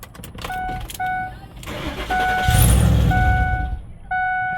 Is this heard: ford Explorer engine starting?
yes